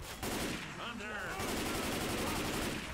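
Continuous automatic gunfire from the zombie shooter game Left 4 Dead 2 during a modded campaign, a dense rattling barrage that runs almost unbroken at steady loudness, with game voices faintly under it.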